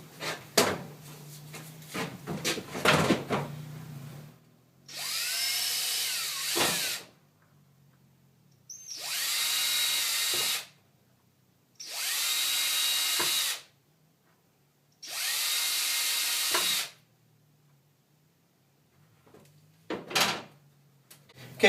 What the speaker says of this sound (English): I'm just going to drill a few holes